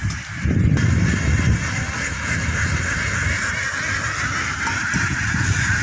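Constant busy honking and quacking from a flock of young ducks eagerly feeding, close by, filling the whole stretch without pause.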